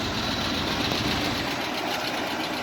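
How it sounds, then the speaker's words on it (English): A 1968 Jeep Wagoneer engine idles steadily with a fast, even clicking from a suspected exhaust leak, a close, continuous mechanical rumble with no talking. "It is a little noisy. I think that might be an exhaust leak, that clicking noise."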